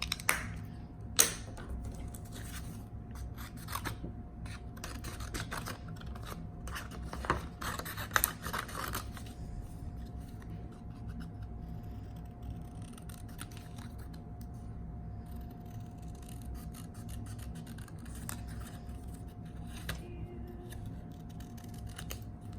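Scissors snip through paper while treat-holder shapes are cut out, a quick run of crisp, close cuts early on, then quieter sparse clicks over a faint steady hum.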